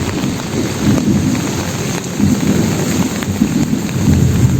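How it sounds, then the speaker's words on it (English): Heavy rain pours steadily with low rumbles of thunder rolling underneath, loud and continuous. "Can you hear the thunder?"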